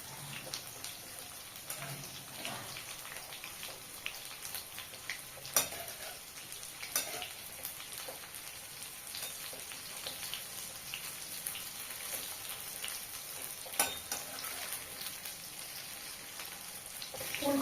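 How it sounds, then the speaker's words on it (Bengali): Cauliflower pakoras fry in hot oil, giving a soft continuous sizzle with scattered crackles and occasional scraping stirs, fairly quiet and steady throughout. "ফুলকপির পকোড়া আবারও ভেজে নিয়েছি"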